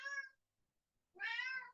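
A cat meows twice, with a short meow, a pause of nearly a second, and then a longer, louder meow, close by with no talk.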